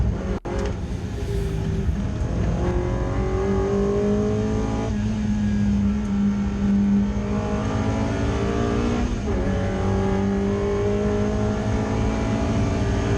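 A Ford Puma race car in the BRSCC Clubsport Trophy at Oulton Park climbs uphill under hard acceleration, its engine note rising loud and close through repeated gear changes, each upshift dropping the pitch before it climbs again.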